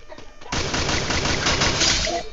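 Automatic gunfire in the mobile battle game Free Fire, a loud sustained close burst starting after a brief quieter lead-in.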